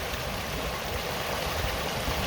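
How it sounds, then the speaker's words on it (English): Water flows along a stream beside a hiking trail near Hog Rock, a constant rushing wash with low rumble, steady and fairly close, with no voices. "water is definitely flowing today"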